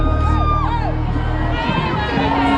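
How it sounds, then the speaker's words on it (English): A large crowd cheers and whoops at an Orlando Pride NWSL championship parade, loud and continuous, with blasting music and whistles mixed into the din and voices nearby. "The music is blasting, the crowd's enjoying it, and it's coming our way soon."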